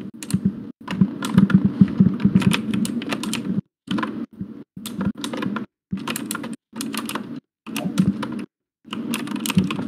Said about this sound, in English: Killer, stop typing.